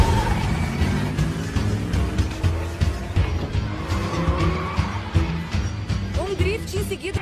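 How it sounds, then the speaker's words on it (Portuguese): A cartoon car drifts with skidding, squealing tires over a steady engine drone, loud and continuous, with tire squeals rising near the end amid busy animated action. "drift em seguida."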